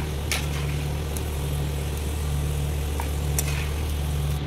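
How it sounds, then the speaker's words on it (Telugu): Peanuts fry in a pan for a donda kaya fry with a constant close sizzle over a steady low hum, broken by a few faint crackles. "పల్లీలు వేయించుకోవాలి"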